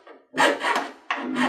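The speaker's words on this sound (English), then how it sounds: "So first thing I'm going to do is file that off." A file rasps back and forth over dried glue on the nub of a model airplane, a few close, harsh scraping strokes with a brief gap between them.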